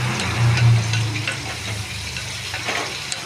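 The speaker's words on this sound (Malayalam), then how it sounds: "ആ വെളിച്ചെണ്ണയുടെ അകത്ത് കിടന്നൊന്ന് ഫ്രൈ ആവണം" Long beans and prawns fry in coconut oil over a low flame, a loud, close, continuous sizzle with stirring, and no voices.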